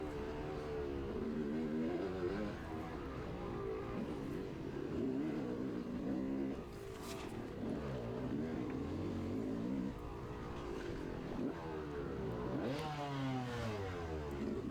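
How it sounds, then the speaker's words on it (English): A dirt bike engine revs in neutral during a harescramble race, its buzzy note swelling and dropping in repeated blips over steady engine drone and trail noise, with no talk. "I think he thought I was revving at him"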